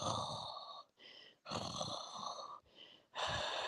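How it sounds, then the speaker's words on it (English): Heavy, loud breathing from a person lying down, close to the microphone: three long raspy inhales or exhales separated by brief pauses, with no talking. "I feel like I'm breathing loud because the way I'm laying."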